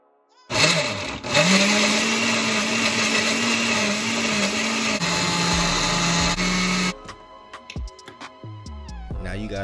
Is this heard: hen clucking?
no